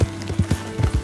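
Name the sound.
horse galloping in Red Dead Redemption 2 video game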